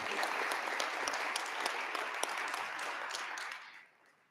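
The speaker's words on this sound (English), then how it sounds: "if we could give a round of applause to all of the students that presented." Fairly faint applause from an audience at a school board of education meeting for presenting students, steady for about three and a half seconds before tapering off quickly.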